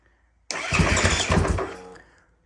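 A 2015 KTM 500 EXC dirt bike with a new cylinder and a weak battery fires up with a sudden loud burst, then runs roughly for about a second and a half before fading out, close and alone.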